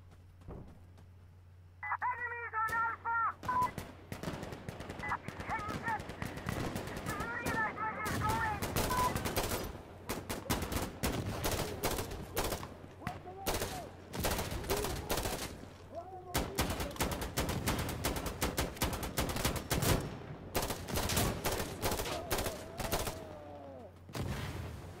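Rapid bursts of rifle gunfire in the video game Insurgency Sandstorm crack out in clusters over about twenty seconds, loud and close, with brief gaps between volleys and some tonal game sounds early on.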